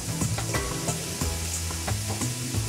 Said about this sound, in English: So I'm just going to put now the artichokes in.